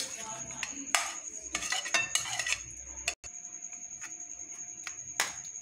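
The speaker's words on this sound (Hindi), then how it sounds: "हमने एक साफ़ बाउल लिया" A clean bowl is handled and set down in a home kitchen while preparing masala for stuffed karela, with several close, sharp clinks and taps of utensils and dishes spread over a few seconds.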